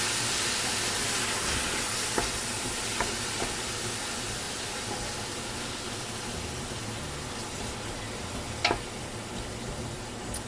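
Ground meat browning in a pan for a low-carb shepherd's pie, a steady close sizzle and hiss with occasional faint ticks and scrapes of stirring.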